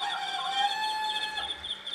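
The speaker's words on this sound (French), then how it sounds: "Attention tout de même, chant du coq," Computer-played rooster crowing from a nativity scene, a clear tonal crow that holds for about a second and a half, fairly close and alone.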